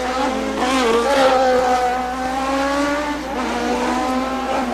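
Toyota Atlantic race car engine screaming at high revs during a 1990 Toronto championship race, loud and sustained, with the pitch wavering as the car shifts and passes.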